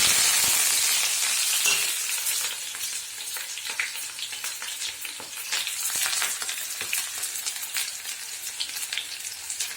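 Onions, dried red chillies and curry leaves fry in hot oil for a bitter gourd tamarind curry, giving a steady close crackling sizzle with frequent sharp pops and spatters throughout, with no talk.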